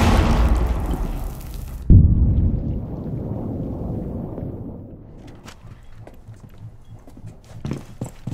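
A thrown shell detonates in a shooter video game, a loud broadband boom with a rumbling tail that fades over several seconds, followed by scattered clicks and small impacts amid game ambience.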